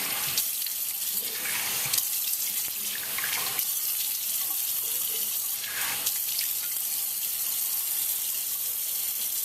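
Cold water runs steadily from a bathroom tap into a sink during a safety-razor shave, a continuous close splashing stream with no talk.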